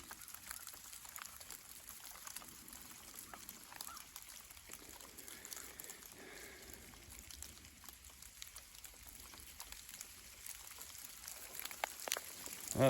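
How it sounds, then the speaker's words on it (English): Small, soft styrofoam-like hail pattering outdoors, a faint, continuous patter of many light impacts that grows a little louder toward the end. "It is coming down a lot harder. Oh no. There it is. The little styrofoam hail."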